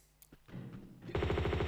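Gunfire from an enemy encounter in the Tomb Raider 2 video game: a couple of isolated shots, then close, loud rapid-fire bursts in a quick repeating rhythm.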